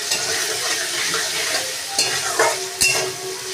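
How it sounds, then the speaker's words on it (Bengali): Paneer coated in salt and black pepper frying in hot oil in a pan, with a steady sizzle broken by a few sharp stirring scrapes and clinks, no talking. "ওই তেলেই আমি নুন আর গোলমরিচ মাখানো পনিরটা ভেজে নেব"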